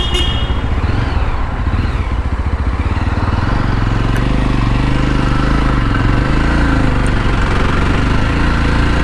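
A motorcycle engine runs steadily and close by, a continuous low throbbing hum that holds its level from start to finish with no pauses.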